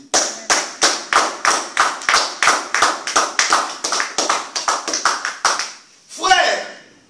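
Applause in church: about eighteen sharp, evenly spaced claps ring out in a lively rhythm before they stop, followed by a brief burst of voice.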